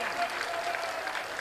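Crowd clapping at a Hindu unity padyatra religious discourse gathering, a dense steady wash of applause for the whole moment, fairly distant and even.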